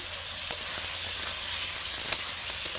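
Stingray fish pieces fry in a thick red spice masala, giving a steady, close hiss of sizzling oil with faint occasional ticks from stirring.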